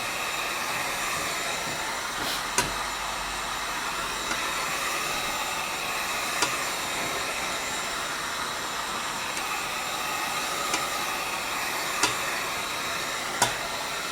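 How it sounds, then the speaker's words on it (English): A steady, airy blowing whir of a heat gun drying a repaired leather car seat bolster runs continuously at close range, with a few faint clicks scattered throughout. "We always use a heat gun."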